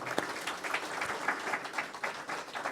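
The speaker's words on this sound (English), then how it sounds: "Give yourselves a round of applause." Audience at a faith talk breaking into applause, a steady burst of many hands clapping close and fairly loud for a few seconds.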